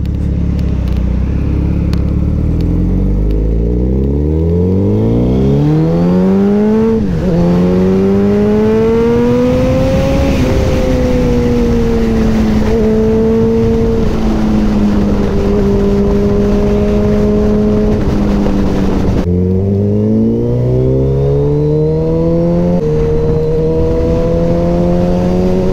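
A Suzuki Hayabusa motorcycle engine roars loudly during a ride, revving up through rising gear pulls with brief dips at shifts, close and continuous with no talk.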